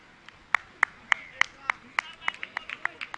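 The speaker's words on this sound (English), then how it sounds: "Huge hand of applause from the Tembo Stars dugout as we finish the first over" Steady rhythmic handclapping from a cricket team's dugout during a T20 match, sharp regular claps that quicken and overlap toward the end, fairly close.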